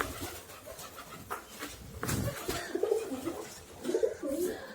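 Pigeons coo in soft, repeated rounds close by, with a few low rustles between the calls.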